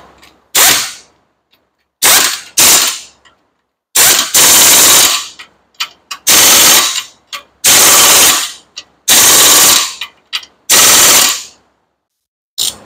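A power tool, likely an impact wrench, tightens a Volkswagen Passat front lower control arm bolt, firing in loud, harsh rattling bursts of about one to two seconds, roughly eight times, separated by short silences.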